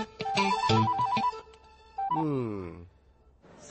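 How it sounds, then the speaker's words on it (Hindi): A phone's electronic ringtone plays a bright, repeating melodic pattern, then pauses briefly before starting again. "तुम्हारे लिए फोन है।"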